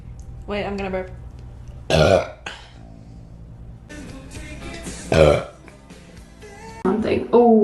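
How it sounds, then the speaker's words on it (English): Several loud, close burps from a young woman, each a short rough gulping burst standing apart from the quieter stretches between them, with people talking around them. "I'm gonna burp."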